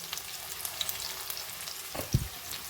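Golden onion frying in a pan for a mutton curry, a quiet close sizzle with light crackles, interrupted near the end by a couple of louder knocks and scrapes of a spoon, no talking.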